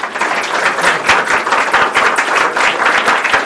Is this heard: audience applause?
yes